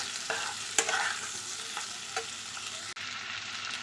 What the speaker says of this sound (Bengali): দিচ্ছি টমেটো আর একই সঙ্গে দিয়ে দিচ্ছি লবণ একটু ভালো করে নেড়ে একটু ঢাকা দিয়ে দেবো